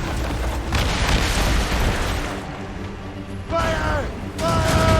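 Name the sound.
ship cannon fire in Assassin's Creed Rogue video game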